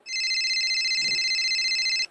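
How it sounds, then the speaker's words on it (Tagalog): A mobile phone rings with a steady electronic tone that repeats continuously for about two seconds, loud and close, with a faint low thump partway through and no talking. "Oh, nag-ring yung phone mo."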